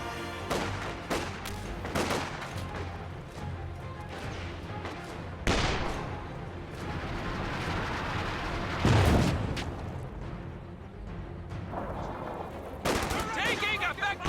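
Battle noise from the real-time strategy game Company of Heroes 2: dense, ongoing gunfire with machine-gun rattles and heavy booming blasts, loud and layered, with game voice lines mixed in.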